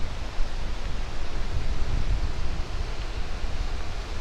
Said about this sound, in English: The waterfall Skoga, or Skogafoss.